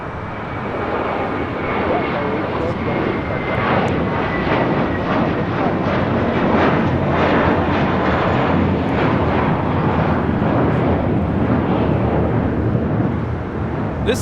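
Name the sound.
American Airlines A321 jet taking off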